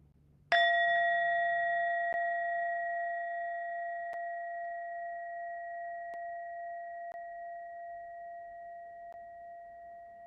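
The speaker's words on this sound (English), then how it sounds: "bringing your awareness to the sound as I ring the bell all the way to the end" A single meditation bell strike rings out clearly, then a long pure tone slowly fades over several seconds in otherwise quiet surroundings.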